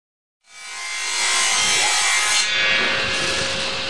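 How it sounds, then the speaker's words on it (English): A saw cuts a long bevel across a wooden top plate during balcony wall framing, a steady close rasping cut that starts abruptly and runs continuously without pause. "Alan is setting up the saw to cut the 37-foot bevel across the top plate"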